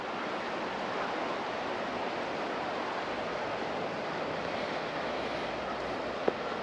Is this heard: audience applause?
no